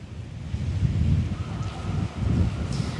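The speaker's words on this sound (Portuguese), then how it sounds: "Agora bateu um vento aqui porque começou a chover bem forte" Strong wind gusts in rumbling surges as heavy rain begins during an outdoor live broadcast in Brasília, loud and alone without speech.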